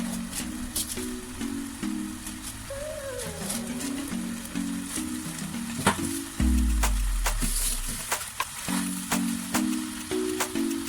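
Pepper, potatoes and plantain being turned with a spoon in a pan for gizdodo, quick light scrapes and taps over a continuous sizzle, with a low steady hum in the background.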